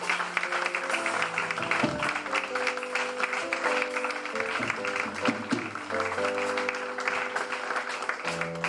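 A church congregation applauding and cheering for the Lord, sustained clapping with organ or keyboard chords underneath, lasting throughout.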